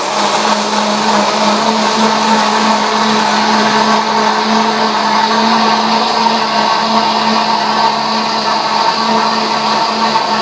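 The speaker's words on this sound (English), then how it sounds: "That's the blender going off right next to me." A blender whirs loudly and steadily right up close at a drinks bar aboard the P&O cruise ship Iona, a constant motor drone with no pauses.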